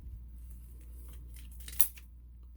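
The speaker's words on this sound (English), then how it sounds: "Maybe if I just take my scissors and go ahead and just cut it right here" Scissors cutting paper for a sewing journal, heard as faint, quiet snips in a hushed room, with one sharper cut standing out briefly.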